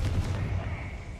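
A Confringo spell blast in a Harry Potter game, a short, muffled, low explosive thump that fades out over about a second, with no speech.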